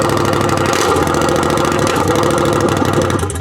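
A Can-Am Outlander 850 XMR ATV with a straight-piped MBRP exhaust idles close by, a loud, steady low rumble with a lumpy, pulsing beat that holds for the whole stretch.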